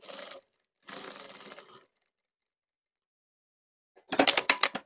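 A sewing machine top stitches through the top fabric and pocket bag of a flap pocket, running in two short bursts, then a louder clattering run after a pause, close up with no talk.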